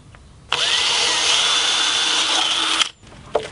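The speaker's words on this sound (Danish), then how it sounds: "Og borer vi lige mellem de to huller. Og det er igen vores 5 mm bor." A power drill with a 5 mm bit bores between two holes in a DIY loudspeaker build, a loud steady whine lasting about two seconds before cutting off, followed by a brief clatter.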